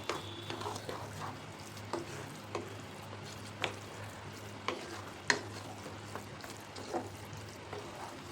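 A spoon stirs a wheat lapshi porridge mixture in a pan, giving soft, repeated scraping strokes every second or so over a faint, continuous sizzle.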